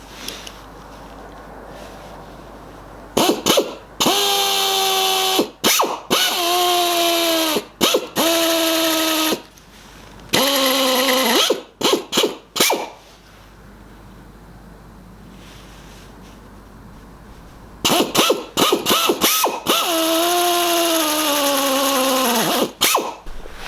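A power tool drives screws into an engine seal on a DW12 engine. It comes in repeated short whirring bursts separated by quiet pauses, close by and loud.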